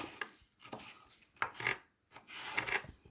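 Knife slicing through food on a cutting board while making cold spaghetti chicken salad, a series of close, crisp cuts and taps in an irregular rhythm with brief pauses, no talking.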